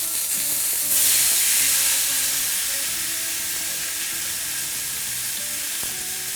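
Food sears in a hot frying pan and is turned over, a steady crackling sizzle that swells briefly as it is flipped and then settles back to a constant hiss. A faint tonal hum runs underneath.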